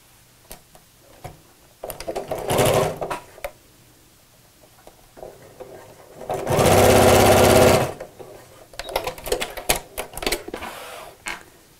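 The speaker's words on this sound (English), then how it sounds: "And sew straight across." A sewing machine stitches across a laptop bag panel in three bursts of rapid mechanical whirring, the middle run longest and loudest, with quiet handling clicks between them.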